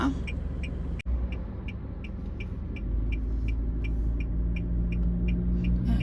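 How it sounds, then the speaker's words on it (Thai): A car driven on Highway 1 in Thailand on a home delivery run gives a steady, close engine and road rumble, with a faint rhythmic ticking like a turn signal running over it. "เดี๋ยวขออนุญาตขับรถก่อนนะ"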